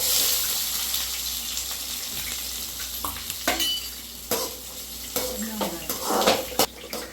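Fennel seeds and onion frying in hot oil for a Tamil chicken gravy, a steady close sizzle with stirring clatters and scrapes of the spoon in the pan.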